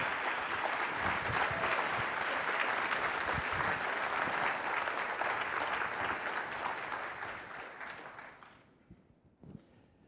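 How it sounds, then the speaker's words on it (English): A large keynote audience at a Quick Base product conference bursts into full, sustained applause for two guests, a thick roar of clapping that holds for several seconds before thinning into a few stray claps. "please join me in giving a big round of applause for Beth Highland and Allison Hunt"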